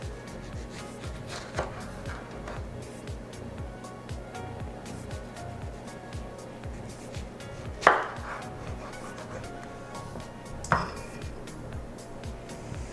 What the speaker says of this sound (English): We're going to slice 5 tomatoes and then we'll slice our green onions.